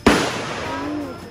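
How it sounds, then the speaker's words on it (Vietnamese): A single sharp real gunshot at a national defence sports shooting range at the Ben Dinh tunnels in Vietnam, a loud close crack followed by a short echoing decay. "Ở đây có một khu bắn súng thể thao quốc phòng, bắn súng thật."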